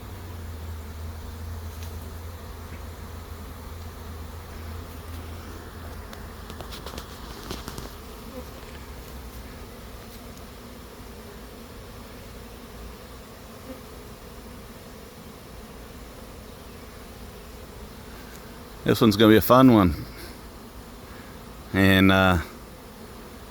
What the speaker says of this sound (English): all these bees right here will go into that hive right there on the corner